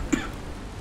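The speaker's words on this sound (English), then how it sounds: "I can cough." A single short cough from a character emote in the video game Valheim, brief and fairly faint against a low background hum.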